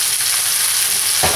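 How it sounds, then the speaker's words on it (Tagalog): Shredded boiled chicken and half-cooked onion sautéing in a pan, a steady broadband sizzle throughout with a louder burst of frying near the end, no voices. "isama na natin yung shredded chicken na pinakula natin"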